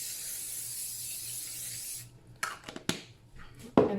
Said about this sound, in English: This recipe just says that I should spray this down with some cooking spray.